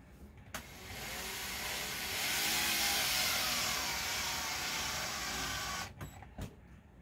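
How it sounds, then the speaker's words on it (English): A steady high-pitched motor whine runs for several seconds, ending in a few short bursts, as a power drill drives screws into a serving tray close by. "as we drill them in, they're just going to get"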